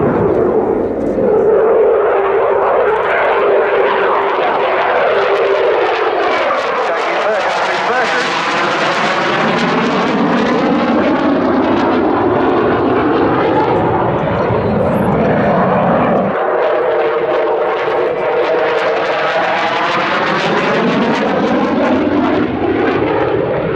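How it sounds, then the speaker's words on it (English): A military jet flies an inverted display pass along the display line at the Yeovilton Air Day airshow, its loud engine roar rising and sweeping past with a shifting pitch, while a commentator talks over the public address throughout. "turning back in onto the display line, where the aircraft will be rolling inverted for its inverted pass"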